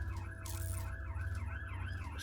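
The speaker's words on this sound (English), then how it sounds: "Excuse the noise of the police car going by out there." A police car siren wails past outside, heard indoors through the walls as a steady rising and falling tone over a low rumble, muffled and moderately distant.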